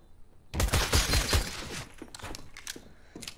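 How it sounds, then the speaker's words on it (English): Video game gunfire, a loud burst of rapid shots followed by scattered sharper single cracks and mechanical clatter. "she's shooting at least"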